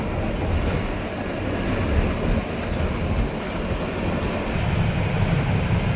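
A steady low rumble of a train rolling past a level crossing on Kutarma Road in Jharkhand, continuous and fairly loud throughout, with no voices.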